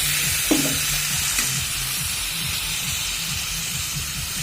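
Small pieces of chopped meat go into well-fried, oil-releasing masala with a loud sizzle and steady hiss, and a couple of stirring knocks early on before the frying settles into a continuous crackle.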